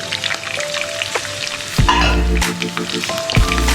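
Curry leaves, green chili, coconut, garlic and ginger fry in a hot pan, first a light crackle, then a sudden loud burst of sizzling with stirring scrapes, close and forceful, and no one talking.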